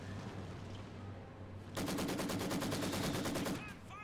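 A Maxim machine gun firing in a WWII strategy game with a Soviet gunner: one steady rapid burst of about two seconds over background battle rumble, close and even in rhythm.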